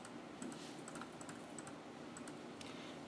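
Password being typed on a computer keyboard, a soft, quiet run of irregular key clicks and taps.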